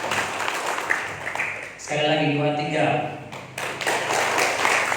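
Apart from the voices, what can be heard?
church congregation clapping hands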